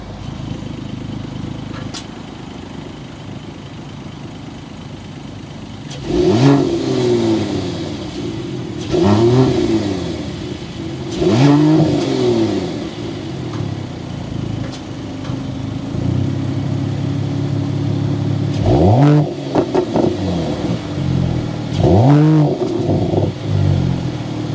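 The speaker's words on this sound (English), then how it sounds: "start it up so we can hear that throaty exhaust note" Turbocharged inline-six in a 2022 Mercedes-AMG GT43 revved repeatedly from idle, about six sharp throttle blips rising and falling over a throaty exhaust burble, close and loud.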